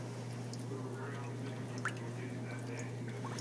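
Feather hair extensions are squeezed and pinched in blue dye liquid, giving faint wet squishing and dripping sounds over a low steady hum, with no talk.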